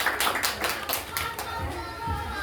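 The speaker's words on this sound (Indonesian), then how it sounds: "Oke, tepuk tangan." An audience claps for a student speaker before a local-wisdom speech competition final, with brisk rhythmic clapping that softens and turns more scattered toward the end.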